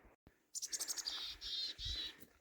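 On the Burstall Pass mountain trail, a small bird sings close by, a quick run of bright chirps followed by two longer trilled phrases, fairly loud against quiet surroundings.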